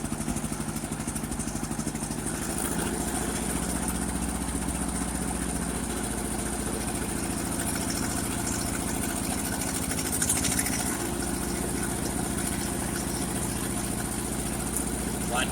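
A 1958 Ford 851 tractor engine idles steadily at close range, a constant low throbbing chug that holds even and unbroken for the whole stretch with no one talking.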